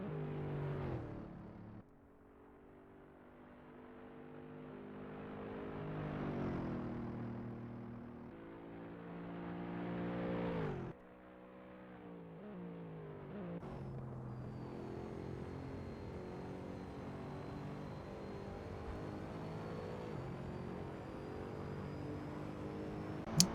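Race cars lapping Silverstone in a racing video game, 1967 circuit: a steady engine drone that rises and falls as the cars accelerate and brake through turns, with a sharp shift in pitch partway through and a faint high whine later.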